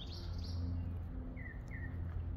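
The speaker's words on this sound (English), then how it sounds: "All these birds are calling." Several birds chirp and whistle back and forth outdoors, with short bright calls heard at a moderate distance over a low steady background rumble.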